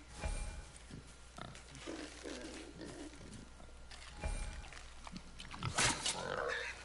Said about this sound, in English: Could the boar be magical?